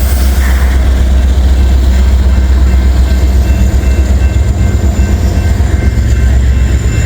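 A loaded coal train rumbling past close by, a loud, steady, continuous roar of heavy rail cars with a deep low rumble and no pauses.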